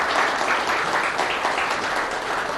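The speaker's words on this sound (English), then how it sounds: "Can we have a warm round of applause to welcome him" A conference audience at a live business event gives a warm, steady round of applause welcoming a government minister to the stage, loud and continuous without speech.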